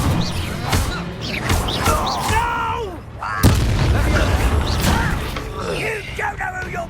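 Confringo fire spell explosions from a Hogwarts Legacy duel, sharp bursts and booms recurring amid busy combat effects, with shouted voices over the top.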